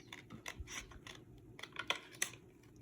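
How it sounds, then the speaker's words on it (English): Scissors snip through paper while cutting out shapes for a craft layout, a string of quiet, close, irregular crisp clicks and snips with no talking. "And now I just take my scissors and I look for my lines and I start cutting."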